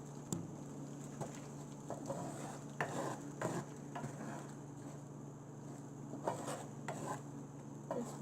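A spoon stirs and scrapes through spinach mushroom curry seasoned with garam masala and salt, giving soft, steady rubbing and sizzling with a few light knocks against the pan and a faint hum underneath.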